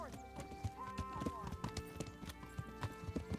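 Steady horse hooves clop on the ground in the medieval Kingdom Come Deliverance video game, a rhythmic series of close, firm beats under background music and faint voices.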